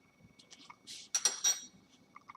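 Rice for a shrimp risotto is swirled around in a hot pan, giving short scraping and clinking bursts of grains and metal. The bursts are close and fairly loud, come irregularly and are heard alone with no talk.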